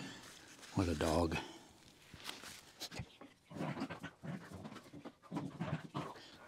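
A dog pants and whimpers in short bursts close by, mixed with footsteps in a woodworking shop where a chess board is being glued up from hardwood, with someone talking over it.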